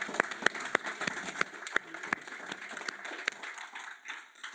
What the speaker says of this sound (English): So maybe just a round of applause first.